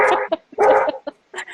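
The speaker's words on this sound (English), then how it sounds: "I'm sorry, that's my dog." A pet dog at home barks several times in quick bursts, close and loud, with short yips between the barks and no talking over them.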